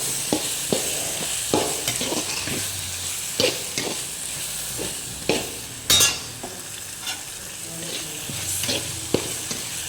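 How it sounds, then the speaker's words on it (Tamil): Eggplant fries in masala with a steady sizzle while a spoon stirs the pan, making repeated scraping knocks and clinks at an uneven rhythm, close and fairly loud, with no talk. "இப்போ இந்த மசாலா கூட நல்லா ஃப்ரை பண்ணி விட்டுறோம் கத்திரிக்காவை."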